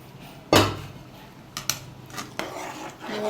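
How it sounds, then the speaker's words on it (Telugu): Yogurt stirred into a tomato and onion curry in a pan, with a sharp clatter of a spoon against the pan followed by a few lighter taps and soft scraping. "కలుపుతూ ఉండాలి లేదంటే విరిగిపోయినట్టు అయిపోతుంది"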